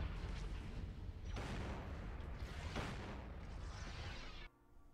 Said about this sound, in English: That's just the DP-20 that just exploded over there.